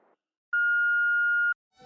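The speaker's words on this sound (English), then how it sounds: "leave a message after the beep" A single steady electronic beep lasting about a second, clean and tonal, with brief quiet before and after.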